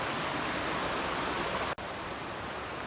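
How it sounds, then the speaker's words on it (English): Steady broadband rush of the Big Branch River flowing beside a hiking trail, continuous and fairly close, with a brief dropout near the end and no voices. "This is the Big Branch River I'm walking along."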